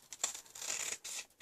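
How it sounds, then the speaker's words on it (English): Scissors snipping through cardstock during a stamping craft project, a close run of crisp cutting and scraping strokes with brief pauses between them, nobody talking. "Now, with your scissors, just cut out the piece of"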